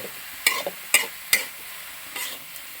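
Bitter gourd and dried shrimp stir-fry is stirred in a pan over a faint sizzle, with three sharp, close scrapes of the spoon at an even pace and a softer one after a short pause.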